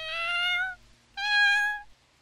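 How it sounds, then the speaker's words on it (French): A black cat meows twice, two clear, drawn-out calls close by with a short pause between them, over a faint low hum. "Oh, un chat noir."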